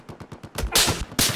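.50 caliber gunfire in the video game Battlefield 4: a quick run of evenly spaced shots followed by heavier, louder blasts and a final sharp report.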